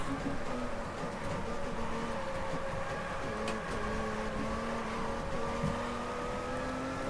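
Stock car engine in Stock Car Extreme, a steady droning motor with tonal whine held at fairly constant throttle, with slight pitch wavers, loud and continuous without talk.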